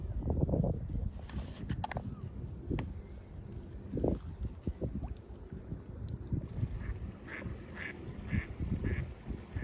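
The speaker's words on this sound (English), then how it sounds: "Here we're coming up on some ducks." Ducks quacking on calm open water, heard from a paddle board: several short quacks scattered near and farther off, with soft water lapping and light wind noise underneath.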